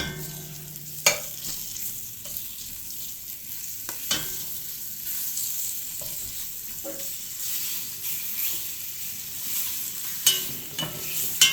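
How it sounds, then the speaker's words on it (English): Steady crackling sizzle of bacon frying in a pan, with occasional sharp clinks and scrapes of a utensil against the pan. "Sizzling."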